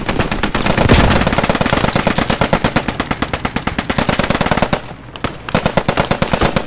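Rapid machine-gun fire in the Post Scriptum World War II shooter, a loud, close stream of sharp shots in long rhythmic bursts, briefly pausing near the end before resuming.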